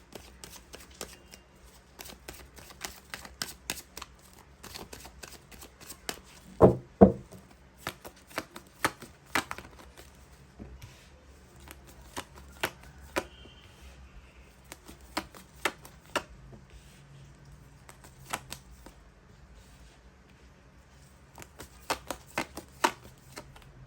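Tarot cards are shuffled and drawn from a deck, giving soft, scattered snaps and riffling flicks close by over a quiet background, with no one speaking.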